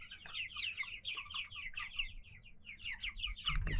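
Young chickens clucking and chirping close by in a barn, a busy overlapping series of calls continuing throughout with no voices.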